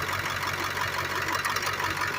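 A 2000 International 3800 school bus with the 7.3 engine runs steadily at idle, a continuous close droning hum with a faint rapid knock underneath and no voices.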